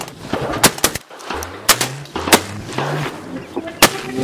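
Several loud, sharp shotgun blasts ring out during a duck hunt, irregularly spaced over a few seconds, with honking geese or ducks and faint voices in between.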